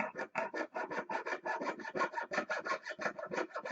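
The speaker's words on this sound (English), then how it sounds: "I'm going to saw. This is my jeweler's saw here" A jeweler's saw's fine blade rasps through 18-gauge sterling silver sheet in quick, even back-and-forth strokes, close up and steady, with no voices.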